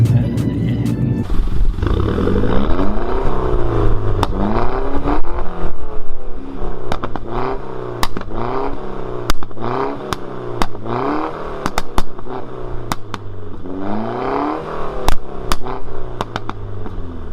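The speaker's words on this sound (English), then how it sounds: "It pops and bangs quite a lot, doesn't it?" A tuned 220 bhp Mini Cooper S revs repeatedly, its engine rising and falling in waves while sharp exhaust pops and bangs crackle loudly and close between the revs.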